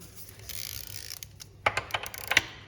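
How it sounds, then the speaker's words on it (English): A torque wrench clicks and ratchets in a short burst of sharp mechanical ticks while tightening the chain adjuster on an S1000 motorcycle, quiet and close with no talk. "And then using the torque wrench, the normal torque setting on all S1000 models is 100 Newton meters for the chain."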